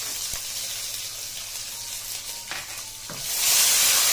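Ginger and garlic fry in hot oil with whole garam masala and bay leaves, a loud continuous sizzle that surges and brightens toward the end, with a few utensil knocks.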